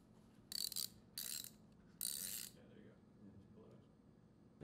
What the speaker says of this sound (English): use a 9/16 socket to remove the pilot seat.